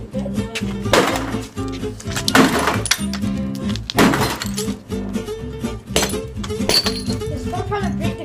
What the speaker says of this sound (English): Stop trying to break the glass.